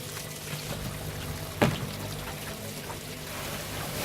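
Water is poured over an aquaponics sieve filter to wash debris off, a soft continuous trickling and splashing with one brief clunk partway through.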